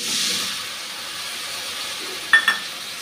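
Spice paste hits onions and green chillies frying in a pan for a fish curry, and a loud steamy hiss flares up at once, then settles into a softer sizzle. Two brief clinks of a utensil follow near the end.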